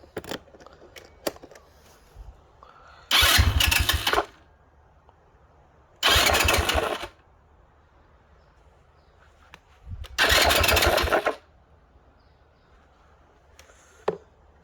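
An Italika ATV 150 engine cranks on a new starter clutch in three separate loud bursts of about a second each, with quiet gaps and small clicks between them.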